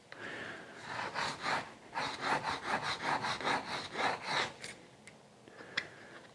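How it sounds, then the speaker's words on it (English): A plastic caulking tube tip is rubbed in a repeated back-and-forth rhythm against an inside wall corner to round it over, giving close, rasping strokes that pause briefly near the end. "it's starting to rub that plastic round to fit the corner"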